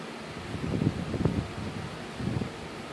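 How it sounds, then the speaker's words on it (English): An outdoor breeze at sunset rumbles steadily across the microphone in low gusty swells, with a faint rustle over a constant hiss and no talking. "Now it's nice and breezy."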